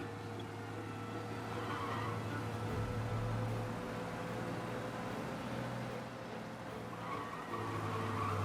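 A car engine in Mafia: Definitive Edition drones steadily at speed while fleeing police, with tires briefly squealing partway through and again near the end.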